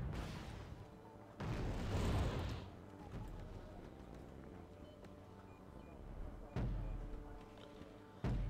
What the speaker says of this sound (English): Artillery being brought up into Foxtrot, trying to hit the command infantry